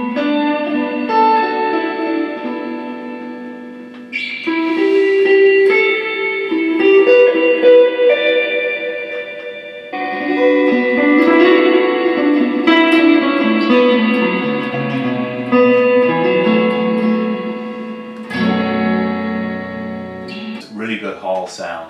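An Electro Harmonix Cathedral reverb pedal on its hall setting with damping tone fully clockwise and feedback and pre-delay fully counterclockwise, washing a series of sustained, separate played notes and chords in long, lush decaying tails.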